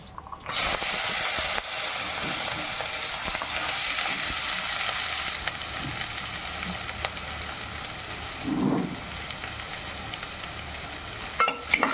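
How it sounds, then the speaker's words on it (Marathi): Onion frying in hot oil for fenugreek-leaf bhaji, a continuous close hiss and sizzle with occasional stirring bumps, steady and alone without talk. "कांदा टाकलाय तेलात मी"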